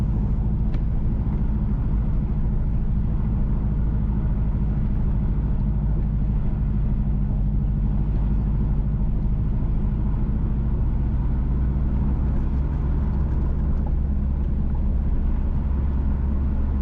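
A car drives along a rural road, the Frankfort to Gayle Road in St Mary, Jamaica, giving a steady low rumble of engine and road noise throughout with no talk.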